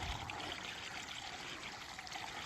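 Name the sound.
pond water trickling over the bank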